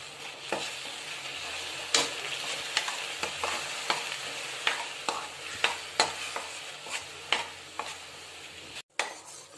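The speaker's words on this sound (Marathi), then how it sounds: "एक तीन चार चमचे मी पाणी घेतलंय ते टाकते आणि आपला छान पाक तयार करून घेऊया" Sugar syrup for sesame laddoos simmers in a pan with a few spoons of water while a spoon stirs and scrapes it. The sharp metallic scrapes come about every half second over a soft, continuous bubbling sizzle.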